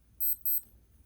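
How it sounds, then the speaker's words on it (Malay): A Skmei 1451 digital watch gives its hourly chime: two short, sharp, high beeps in quick succession, close and clear against a quiet background. "Chime bunyi beep tit macam tu je, sekali je."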